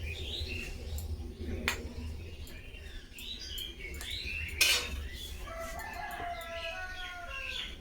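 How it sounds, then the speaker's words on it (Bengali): A neighbour's chicken calls from the next house in a Bengal village, its clucking and drawn-out cries rising in the second half, moderately distant over a low background hum and occasional kitchen clinks. "পাশের বাড়ির মুরগি ডাকছে।"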